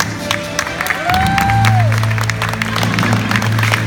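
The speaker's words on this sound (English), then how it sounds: "Let's keep that applause going for our semi-finalists" Studio audience clapping for the semi-finalists on a Fear Factor stunt show, a steady mid-level patter running under a sustained musical tone and a rising synth swoop.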